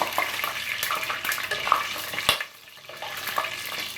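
Bay leaves and white cumin seeds sizzle and crackle in hot oil for a dhaba-style white chickpea curry, a steady close frying hiss with small pops, briefly dipping quieter near the end.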